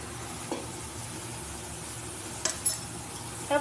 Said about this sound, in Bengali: ভালো করে মশলাটা কষিয়ে নিতে হবে যতক্ষণে তোমার চারিদিক দিয়ে তেলটা না ছেড়ে আসছে